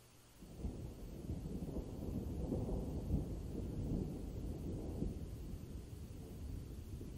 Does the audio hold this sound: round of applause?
no